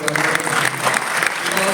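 A round of applause from the audience at a startup conclave in a hotel ballroom, loud continuous clapping from many hands with a few voices faintly mixed in.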